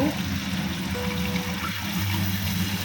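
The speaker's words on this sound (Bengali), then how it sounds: "একটু জল দিয়ে দেব" A splash of water poured into spices frying in a pan gives a brief close gush and trickle over ongoing sizzle, with no talking.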